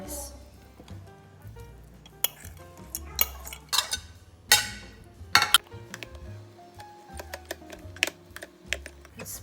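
Spoon scrapes and clinks against a pot while chicken is mixed into cooked rice, giving irregular sharp clatters with a voice briefly heard between the strokes.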